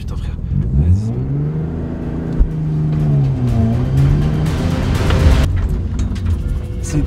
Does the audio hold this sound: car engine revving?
yes